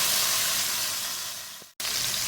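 Beef short ribs sear in a hot pan with a loud, steady sizzle that breaks off for a moment and then resumes.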